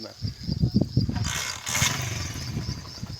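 A motorcycle engine in a village idles and revs as a steady, moderately loud roar, with people talking over it at the start.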